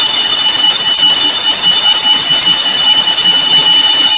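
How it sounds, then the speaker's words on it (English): A loud bright bell rung once on a live stream, its ringing tone sustained and steady for several seconds, close and alone. "One bell for the catfish."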